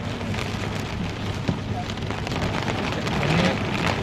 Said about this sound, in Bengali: আজকে অনেক টাইম ভালো লাগতেছে বৃষ্টি দেখলাম বৃষ্টি হইলো